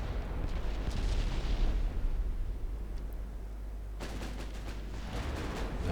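Naval shells striking a heavy cruiser in the Ultimate Admiral Dreadnoughts naval battle game, deep rumbling explosions and booming impacts rolling over a continuous low roar, with a fresh burst of blasts near the end.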